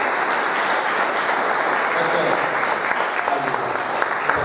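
A church congregation claps together in a continuous, dense burst of applause that stays at a steady level for several seconds, with some voices faintly mixed in.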